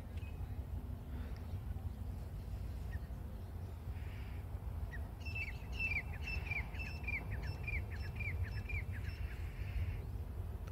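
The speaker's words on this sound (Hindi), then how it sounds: "उधर से काफ़ी पक्षियों की आवाज़ें भी आ रही है।" Birds call from across the Sone River bank on a farmland morning, a run of rapid chirps and twitters rising over a steady low rumble of wind or distant background noise.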